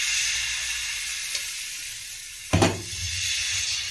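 Ragi dosa batter hits a hot pan with a sudden burst of sizzling partway through, over a steady frying hiss, with no talk.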